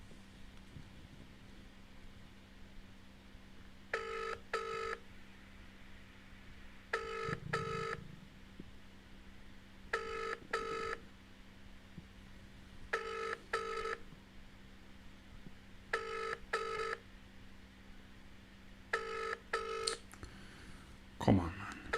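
An outgoing phone call rings out repeatedly, evenly spaced double-pulse ring tones sounding at a steady rhythm over a quiet room hum, ending just as a recorded voicemail greeting begins.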